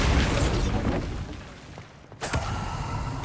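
A Bombarda spell going off in Hogwarts Legacy, a heavy boom that fades into a quieter lull before a sharp burst and renewed rumbling crackle, with no talking.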